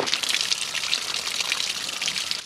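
Water gushes steadily from a pulled low point drain plug on a GeoPro 19FBS travel trailer during winterizing, a continuous close splashing rush with no talk.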